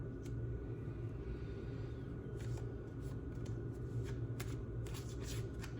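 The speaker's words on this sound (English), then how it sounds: "Let's pull a few more cards." Tarot cards are shuffled, a soft papery riffling that grows busier in the second half, faint and steady over a low background rumble, with no talking.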